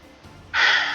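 Halfway through, a bright, harsh, sustained screech erupts and holds at a steady loud level: the cry of the Healer's Hawk in the Elemental Force card game, following a quiet lead-in.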